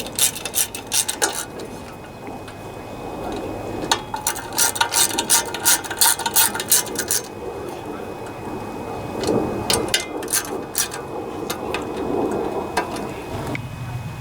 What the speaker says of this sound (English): Tighten those babies down. And I use a 5/16 socket on these.